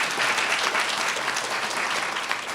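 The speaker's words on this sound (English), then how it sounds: "Applause in absentia." Steady applause from a ceremony audience at a physics diploma event, a dense even wash of clapping that holds at moderate volume for a few seconds without a voice over it.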